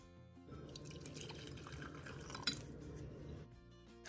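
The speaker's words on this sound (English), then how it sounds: "take a hot boiling cup of water and pour into" Hot boiling water poured from a cup into a glass candle jar holding leftover wax, a steady close trickle and splash lasting several seconds with a brief clink partway through.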